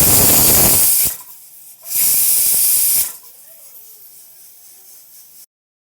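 A stovetop pressure cooker making vegetable pulav blasts two loud, close bursts of hissing steam from its whistle, then settles into a quieter, steady hiss before it cuts off.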